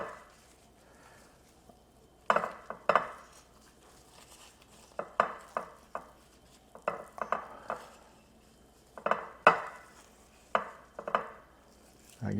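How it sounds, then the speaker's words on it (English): An unlevel dish rocks and rattles against the counter as olive oil is rubbed over steak for the air fryer, giving repeated clattering bursts in irregular clusters, close and fairly loud, with no talking. "dish here is a little unlevel. It's making all kinds of racket."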